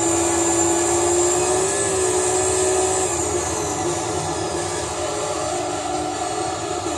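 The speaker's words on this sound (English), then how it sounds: "You guys want to hear what this car sounds like in the headset?" Engine of a TVR Tuscan car in Gran Turismo 3, a loud steady droning hum with a whining tone that shifts pitch slightly about halfway through, with no talking.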